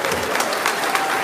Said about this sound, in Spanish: Un aplauso para los invitados